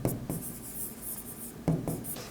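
A pen scratches across paper while figures are written down for an accounting exercise, with two short, close strokes at the start and two more near the end over a faint background.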